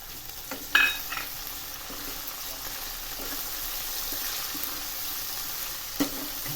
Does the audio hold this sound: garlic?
yes